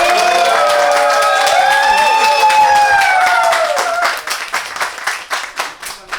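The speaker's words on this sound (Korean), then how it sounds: "자, 박수 한 번 부탁드립니다." Clapping from a small group at an outdoor tuna sashimi eating event, starting under a loud, bright voice and then continuing alone as distinct, uneven hand claps.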